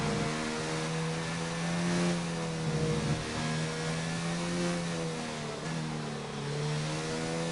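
Ferrari, Red Bull and McLaren Formula-style race cars in a racing video game at Suzuka, their engines droning and revving together in a steady, loud, harmonic whine with slight pitch shifts, no talk.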